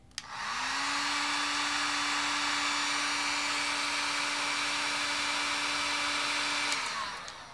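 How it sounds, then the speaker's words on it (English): A heat gun blows hot air onto the sensor of an XH-W1411 12V thermostat controller, a steady loud whirring hiss that starts, holds evenly for about six seconds and then winds down. "Now I'm gonna use a heat gun here to increase the temperature"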